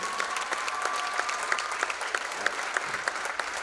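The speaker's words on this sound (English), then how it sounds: "One last round of applause for these seniors." Gym crowd at a high school boys basketball game giving one last round of applause for the seniors: steady, moderately distant clapping throughout, with a faint tonal whistle or horn early on.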